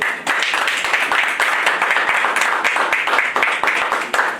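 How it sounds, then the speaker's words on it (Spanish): A crowd at a religious gathering applauds steadily, a dense sustained patter of many hands clapping together without a break. "Nos ponemos en pie y la recibimos con un aplauso"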